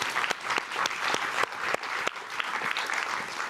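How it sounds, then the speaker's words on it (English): Audience applause at a conference panel on young leaders, heard as a fairly close burst of dense clapping that continues evenly throughout, with a few sharper individual claps standing out. "So a round of applause for Seven Hills."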